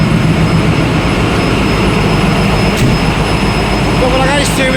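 Generator in a ship's engine room roars as a loud, continuous mechanical drone with a steady hum, while someone talks over it near the end.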